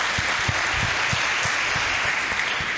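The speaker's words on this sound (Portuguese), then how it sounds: "Você pode aplaudir ao Senhor?" Worshippers in a church clap along in a steady rhythm, a sustained wash of crowd applause with regular beats running underneath throughout.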